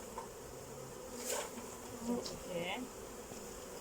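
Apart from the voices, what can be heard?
honey bees buzzing around hive frame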